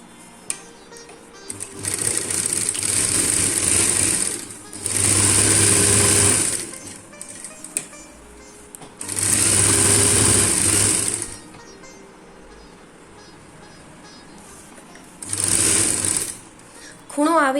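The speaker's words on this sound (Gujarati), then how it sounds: "ત્રણેય બાજુ આપણે સિલાઈ કરવાની છે આ રીતે" Sewing machine stitching the three sides of a cloth shopping bag, running in several loud steady bursts of a few seconds each with pauses between, while someone talks quietly in the gaps.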